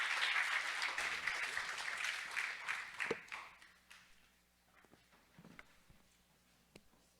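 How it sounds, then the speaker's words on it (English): A demo day audience at a university applauds a student team, loud clapping at first that thins out and fades, leaving a few scattered claps and faint room noise. "Can we please give a big round of applause to HofTech?"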